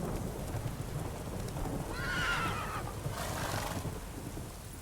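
Roach the horse in The Witcher 3 lets out a short whinny over steady rain and ambient game sound, fairly faint and lasting about two seconds, with a second softer call after it.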